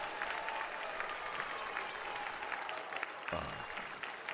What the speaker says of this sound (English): he'll get a nice round of applause as his evening is over